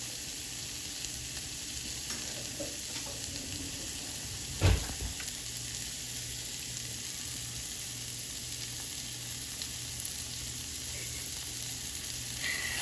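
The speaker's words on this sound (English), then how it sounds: "So you hear that sizzling?" King crab, shrimp and sausage sizzling in a hot pan, a steady, even hiss of frying that runs the whole time, close and moderately loud, broken once by a brief knock.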